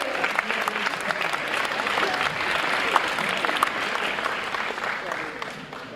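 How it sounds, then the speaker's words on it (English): An audience at an inspirational talk gives a sustained round of applause, a dense even clatter of many hands that stays steady before easing slightly at the end, with faint voices mixed in. "round of applause for all those who are great"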